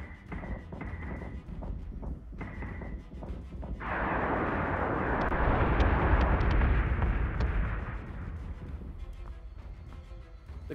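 Bombing-run explosions in a video game: a sustained, loud broadband rumble of blasts and crashes builds in partway through and rolls on for several seconds, with scattered thuds before and after.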